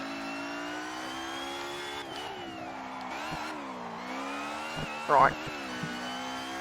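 Simulated car engine revving and droning steadily in Assetto Corsa on the Nordschleife, with pitch sweeping up and down through gear changes, continuous and fairly loud, with a brief spoken word near the end.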